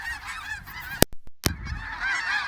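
A large flock of hundreds of geese honking continuously near a farm homestead, dense overlapping calls with a brief gap of near silence in the middle.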